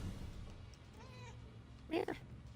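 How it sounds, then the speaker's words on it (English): A cat meows in the video game Murdered: Soul Suspect, one faint, short mew rising out of quiet background ambience, followed by a brief louder thump. "Oh, I wanted to meow."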